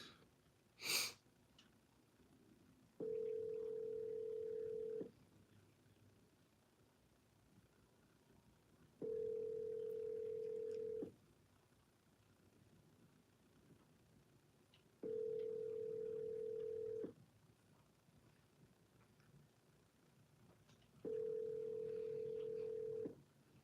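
A telephone call rings out before going to voicemail, with four evenly spaced long ring tones repeating about every six seconds, faint and steady over quiet background after a brief click at the start, with no talking.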